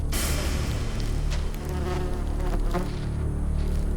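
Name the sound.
tarantula hawk (Pepsis wasp) buzzing in the Sonoran Desert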